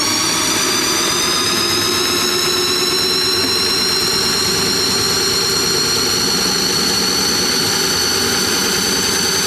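A Briggs & Stratton small engine with stuck valves and lifters is spun over, giving a steady, loud whirring drone that holds throughout with no talking.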